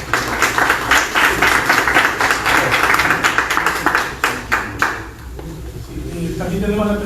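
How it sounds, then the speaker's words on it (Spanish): An audience at an anniversary gathering claps loudly for several seconds in dense, rapid rounds. The applause then tapers off and a voice starts speaking. "Yo pido un fuerte aplauso nuevamente para el compañero Mario"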